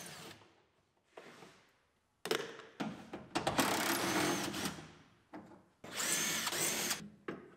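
Power tool driving out wheel opening molding bolts on a 2018 GMC Sierra Denali, several short whirring bursts with pauses between, close and loud, no talk.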